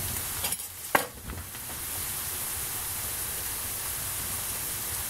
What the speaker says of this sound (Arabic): هسه هنا حمس عندنا البصل